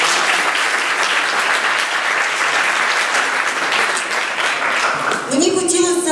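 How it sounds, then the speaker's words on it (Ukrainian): Dense, steady applause from a concert audience at a music festival, many hands clapping close and loud for several seconds, with a musical tone entering and sustaining near the end. "зараз ваші оплески для неї"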